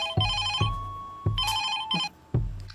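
A telephone rings in a repeated pattern of short, bright electronic trills, about five bursts close together, loud and alone without any talking.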